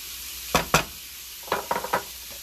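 Ground meat browning in a pan for egg rolls, with a few scraping stirs and a soft sizzle underneath, several sharp utensil clatters close by.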